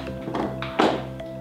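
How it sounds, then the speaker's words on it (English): A door being shut, a few light taps and shuffles followed by one firm thunk near the close, heard up close over a low steady hum. "All right, shut this door."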